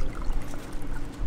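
Gear oil draining from a Quad 300 outboard motor during an engine service, a steady low pouring trickle that runs continuously and close by with no talk.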